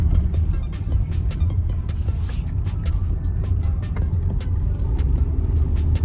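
Nissan 300ZX twin turbo driving, a steady low engine and road rumble heard from inside the car with faint ticking and rattles, continuous and fairly loud throughout.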